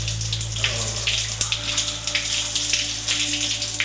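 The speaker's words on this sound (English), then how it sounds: "I'm going to go and stand under some hot water for about 15 minutes" Hot water running from a shower, a steady hiss of spray spattering on a surface, close and continuous with a low background hum beneath it.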